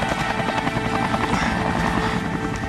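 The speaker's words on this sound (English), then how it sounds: "helicopter's still one of my favourite sounds" A helicopter drones loudly overhead, its rotor chop pulsing steadily against a rumbling, wind-buffeted background.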